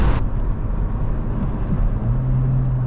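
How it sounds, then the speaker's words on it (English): Car cruising on a highway on the way to a dyno session, with a steady broadband road and engine rumble throughout and a low drone rising near the end. "we are on the highway"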